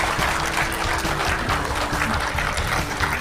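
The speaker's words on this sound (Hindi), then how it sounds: "जोरदार तालियां बजनी चाहिए।" Audience at a Bharatiya Janata Party (BJP) Uttarakhand state foundation day silver jubilee ceremony claps loudly, producing dense, sustained applause from many hands throughout.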